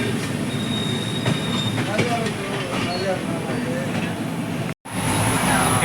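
The Tirukkural Express, just departed Agra Cantonment, rolls along with a constant rumble and thin squealing from the wheels, with a brief cut to silence near the end.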